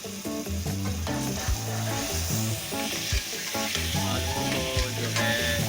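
Potatoes fry in spice masala for an aloo karela dish, a continuous close sizzle with rhythmic stirring scrapes, while music plays in the background.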